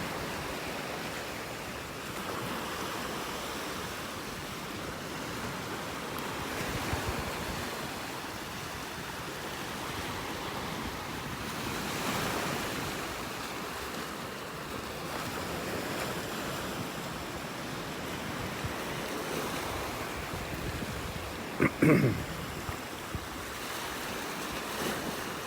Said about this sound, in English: These waves make it too hard to see.